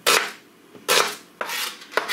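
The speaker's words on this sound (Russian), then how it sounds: "Лук я нарезаю просто полукольцами, не слишком тонко." A knife cuts through an onion into half rings on a cutting board, three or four crisp slicing strokes with short pauses between them, close and clear.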